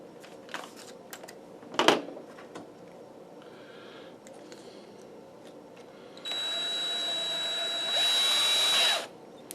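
Power drill boring into a wooden board for a dulcimer case, heard as two short whirring bursts near the end after a few light knocks and handling clicks.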